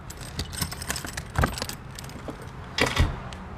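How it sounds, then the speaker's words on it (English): Keys jangle and rattle close by as a key is put into the lock of the trunk compartment on a 2009 Airstream International Signature 19C Bambi travel trailer and turned. Two louder bursts of metallic clinking stand out, with no talk. "Stick the key in, spin it around."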